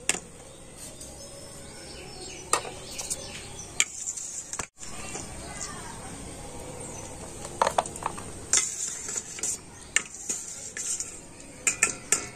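Fried sweets are drained and lifted out of sugar syrup with a metal utensil, giving scattered sharp clinks and scrapes against the pot over soft, steady background noise.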